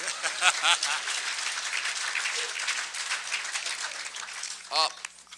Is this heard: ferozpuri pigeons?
no